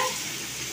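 Meat sizzles in hot oil as a metal spatula stirs it in a home kitchen pan, a brief, steady hiss close by.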